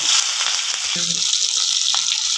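Garlic, green chillies and curry leaves fry in hot oil for coconut milk rasam, giving a loud, steady sizzle that fills the whole moment, with a few faint thuds of stirring underneath.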